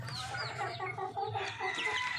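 Chickens in a homemade cage in a vehicle cluck and squawk in quick overlapping bursts, close and fairly soft.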